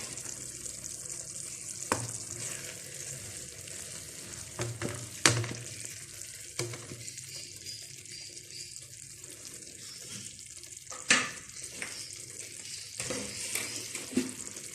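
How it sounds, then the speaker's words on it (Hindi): Minced meat (keema) cooks in a pan with a low continuous sizzle and bubbling, broken by occasional sharp clinks of a utensil against the pan, with no talking. "कीमा देखे माशाल्लाह से कितना अच्छा पक रहा है"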